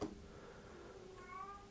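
A pet cat lets out a single short meow near the end, faint and close, over a quiet indoor room hum.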